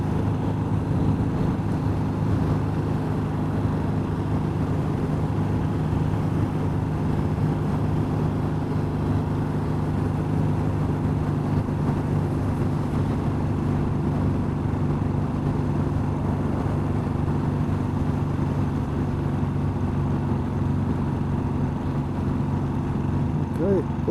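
A Royal Enfield Bullet 500 motorcycle climbing over the Lecht in fifth gear, its steady low engine drone running throughout under strong wind rush, with a voice speaking briefly over it.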